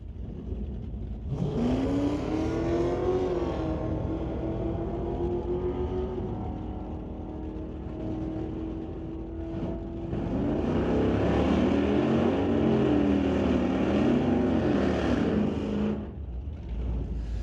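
A drag racing car makes a single pass at a bracket race: a loud engine launches and holds a high rising whine, drops briefly as it shifts, then roars again before cutting off, with no commentary over it.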